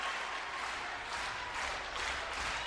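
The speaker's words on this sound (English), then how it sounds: "The fans start to clap." Fans in an arena clap at a college men's volleyball match, with a dense, continuous wash of crowd applause and noise under a loud, echoing hall.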